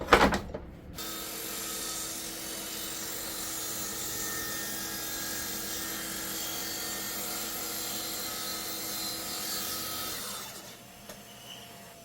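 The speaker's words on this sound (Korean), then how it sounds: "가이드레일을 이렇게 놓고 이걸 잘라 보겠습니다" Festool track saw running along a guide rail as it cuts through wood on an MFT/3 workbench, a steady loud whine held for about ten seconds before spinning down, with no talk.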